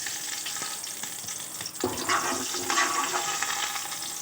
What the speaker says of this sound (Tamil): இப்போ நம்ம இதில் இந்த நெய்யில் விட்டுருக்க நெய்யில் இந்த தாளிப்புலாம் போட்டுக்குவோம்.